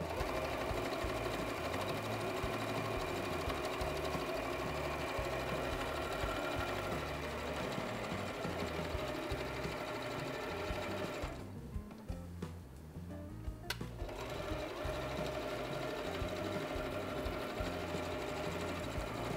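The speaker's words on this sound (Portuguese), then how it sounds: "vou passar a costura em toda a volta" A sewing machine runs steadily, stitching all around to close a fabric opening, a continuous close whirring rattle with a brief pause near the end before resuming.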